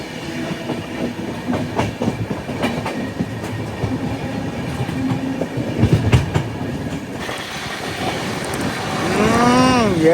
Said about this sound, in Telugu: ఏలూరుకి వచ్చింది బండి.